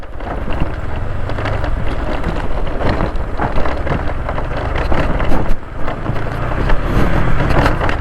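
An off-road vehicle lurches over a bumpy mountain track strewn with big rocks in Bontoc, Mountain Province. Loud, continuous rumbling and rattling carries through, with gusts of wind noise, jolts and thumps. No one speaks.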